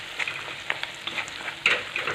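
Spices and salt stirred into a sizzling tempering, crackling oil with quick spoon scrapes and bursts of spitting, close and busy, no voices.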